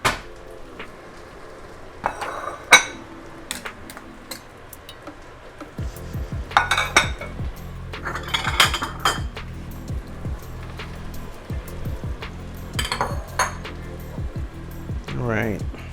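Ceramic pasta bowls clink and knock as they are taken out in a home kitchen, a few scattered sharp chinks over a low steady stovetop hum, with voices talking intermittently.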